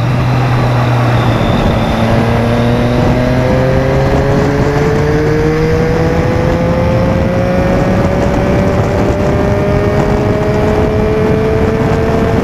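A naked motorcycle engine lugging at low revs after a downshift, below 5,000 rpm, a loud, steady close-up drone whose pitch climbs slowly and evenly as it pulls, with wind noise and no talking.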